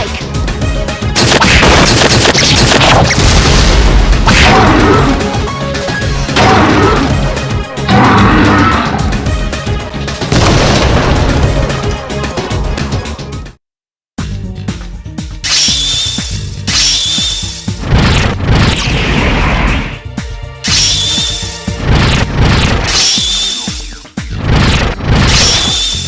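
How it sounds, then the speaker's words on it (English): The all-out attack in Persona 3 comes through as a dense, loud barrage of smashes, thwacks and booming hits over game music, breaking off in a brief silence before a second burst of lighter impacts. "Let us commence with an all-out attack!"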